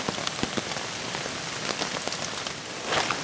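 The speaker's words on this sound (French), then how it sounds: "j'aime bien le petit clapotis de la pluie sur le tarp" Rain pattering on a tarp at a camping bivouac, a dense steady patter of drops with occasional louder taps, close and continuous with no speech.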